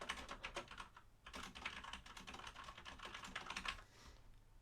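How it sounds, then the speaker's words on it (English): Someone types on a computer keyboard in short, quiet bursts of rapid clicking separated by brief pauses, with the key taps soft and close. "I'm going to type that title one more time here"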